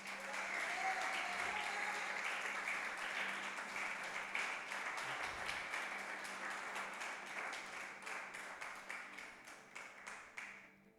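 Congregation in a church applauding together, a steady wash of many hands clapping that thins into scattered claps as it fades over about ten seconds, with faint talk beneath.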